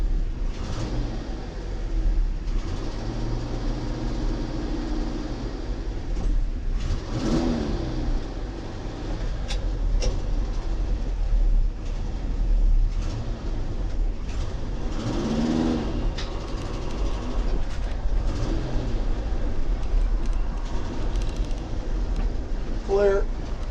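Engine of a 1972 International Harvester Travelette 1210 crew cab 4x4 pickup droning steadily while driving, rising and falling with gear changes, heard from inside the cab with someone talking over it.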